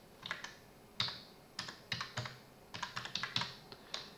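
Quiet, close computer keyboard typing as text goes into a spreadsheet cell: light clicky keystrokes in short irregular bursts with small pauses, no voices.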